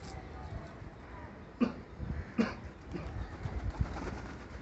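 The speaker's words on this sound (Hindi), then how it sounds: "वो देखें, वो हमारे कबूतर हैं" Spider pigeons in a keeper's flock give a few soft, throaty coos against a quiet background with faint human voices nearby.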